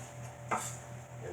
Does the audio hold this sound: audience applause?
no